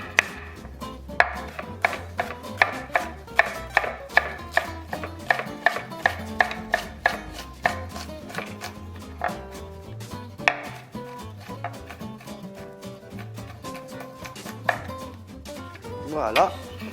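An onion is finely chopped with a knife on a board, giving a steady run of crisp, close knife taps in quick rhythm, with brief pauses and a few louder strikes near the end.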